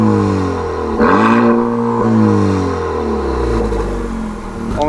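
A 2019 Honda Civic Type R with a Borla exhaust revs repeatedly while parked, limited to about 3,500 RPM, with the engine note rising and falling in several close, loud pulls.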